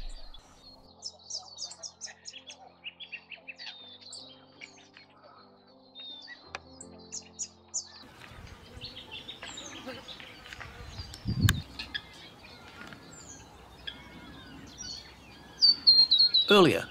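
Scarlet honeyeater, an immature bird, calling in Australian bushland with a run of high, thin chirps and twittering notes, moderately close, alongside other background birdsong and insect buzz.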